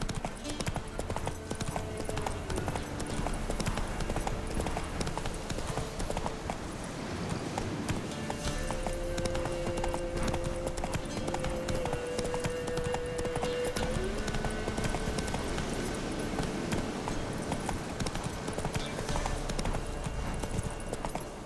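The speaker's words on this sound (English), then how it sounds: "Run, Roach" A horse gallops with steady, rapid clip-clop hoofbeats throughout a fantasy video game ride in The Witcher 3, loud and continuous under layered game music and ambient sound, with a brief tonal swell midway.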